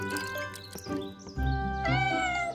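A cartoon mother cat meows loudly to call her missing kitten, giving two or three drawn-out, rising cries close up with a little background sound and no speech.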